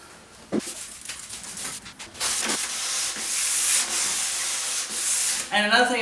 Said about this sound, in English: this is 400 grit sandpaper. So you can do wet sanding from 400 grit all the way up to 1000 grit